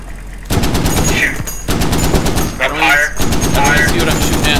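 Machine gun fire in a military video game during a Humvee fight in Al Basrah: sustained loud automatic bursts with brief breaks, mixed with a voice and other battle noise.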